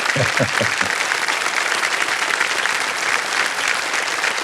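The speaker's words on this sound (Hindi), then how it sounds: "तालियां बज जाए इनके लिए." Steady applause from a TV game show studio audience (Kaun Banega Crorepati) fills the whole stretch, preceded by a few sharp low thumps at the start.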